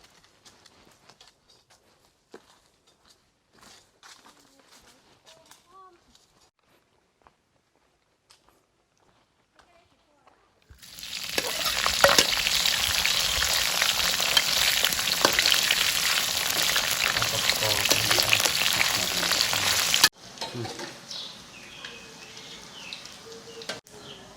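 Wild mushrooms dropped into boiling oil set off a loud, steady sizzle that lasts about ten seconds and then drops to a softer bubbling, after quiet outdoor sounds with scattered clicks.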